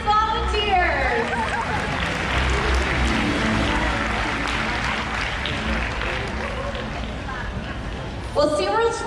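A stadium crowd at a SeaWorld Shamu Stadium killer whale show applauds the audience volunteers, with sustained loud clapping and some crowd chatter, before an announcer's voice returns at the end.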